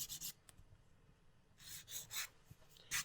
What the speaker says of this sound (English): we're going to file this into a nice almond shape